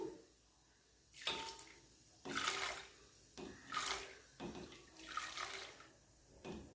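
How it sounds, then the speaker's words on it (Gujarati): Soaked sago pearls are added to water in a pot, producing several separate bursts of splashing and sloshing, each a second or so long with quiet gaps between them, close and fairly soft. "આપણે જે સાબુદાણાને પલાળીને રાખ્યા છે તે આપણે પાણીની અંદર એડ કરીશું"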